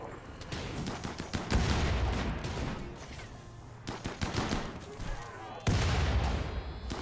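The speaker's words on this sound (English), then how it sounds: "They're throwing grenades." Grenade blasts and gunfire in a video game battle, a run of loud booming impacts and crackling shots spread across the span, some heavy explosions standing out against continuous rattling fire.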